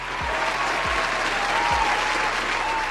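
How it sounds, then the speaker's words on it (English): A round of applause for Mr. Antoine Wade, a dense, steady wash of crowd clapping at even loudness throughout, with a few low thumps underneath. "Mr. Antoine Wade, give a round of applause."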